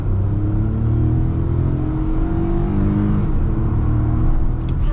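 Hyundai Venue N Line three-cylinder engine pulling under acceleration from inside the cabin, a smooth continuous drone with rising engine tones sweeping upward then settling, steady and close without talking.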